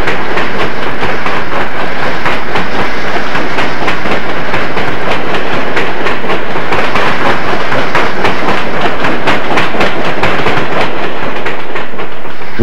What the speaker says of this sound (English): 4274 rolls her train back downgrade through Soda Springs at an easy pace.